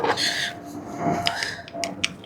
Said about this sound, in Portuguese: aperto com a chave de fenda